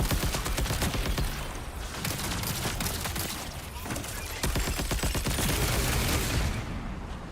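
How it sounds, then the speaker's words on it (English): Sustained heavy barrage of gunfire from a charged prime ability in the shooter game Marathon, dense overlapping shots and blasts rolling loudly and continuously, with brief rapid bursts standing out. "Use it during combat to unleash a barrage on your enemies."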